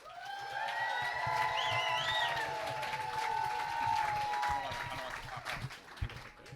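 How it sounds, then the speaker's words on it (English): An audience at a Moth story slam applauds and cheers as the final storyteller, Kenny, takes the stage. Sustained clapping comes with whistle-like tones and shouts, fairly loud and continuous throughout. "voracious applause for Kenny"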